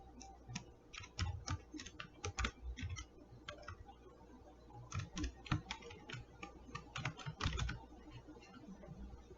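Typing on a computer keyboard while writing a for loop in code: irregular bursts of crisp key clicks with short pauses between them, close and moderately quiet, with no speech.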